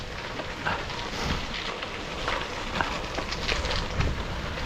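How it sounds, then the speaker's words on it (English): Constant, moderate rain falls with a steady patter and hiss, no voices, just an even wash of drops throughout. "it's still raining. It's not getting any lighter"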